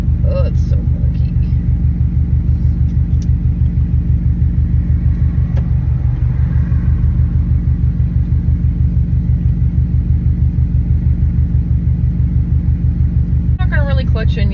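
A 2017 Subaru STI idles steadily in traffic, its low rumbling engine pulsing evenly throughout, with a person speaking briefly near the end.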